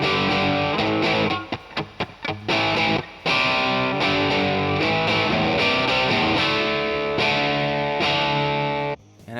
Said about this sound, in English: Here's the sound of a Marshall emulation.